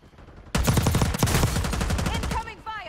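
A short burst of rapid gunfire in a Call of Duty match, loud and close, rattling for about two seconds before cutting off into faint game sounds.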